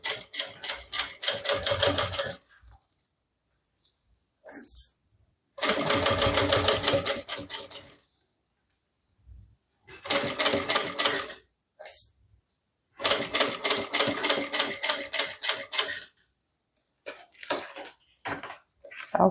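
A sewing machine stitches a handbag slowly, running in several loud, close bursts of rapid clatter separated by pauses with small handling noises.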